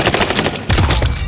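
Rapid automatic gunfire in Call of Duty Warzone on Rebirth Island, a close, loud rattling burst of shots with a brief gap midway.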